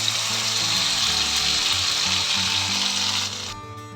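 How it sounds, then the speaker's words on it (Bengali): Spice paste hits hot oil for a raw banana curry and sizzles in a loud, continuous crackle close by. A few knocks sound underneath, and the frying cuts off sharply just before the end. "আগে ফোড়নটা রেডি হয়ে গেছে এখন পেস্ট করা মশলাটা দিয়ে দেবো"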